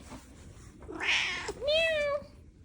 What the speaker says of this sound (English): There's Tux, who is a tuxedo cat.